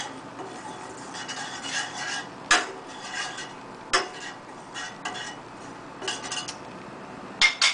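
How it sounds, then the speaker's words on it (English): Cumin seeds heating in a pan being stirred, quiet scraping and rustling of a utensil with a few sharp metallic clinks against the pan, faint sizzle beneath. "So just kind of stir that around."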